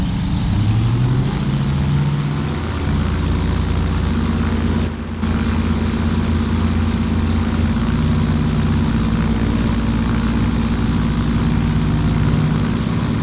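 Twin radial engines of a DC-3 in Microsoft Flight Simulator X roar steadily at full takeoff throttle, a loud, dense, continuous drone with low harmonic tones rising slightly at the start, broken by one brief dropout, with no voices.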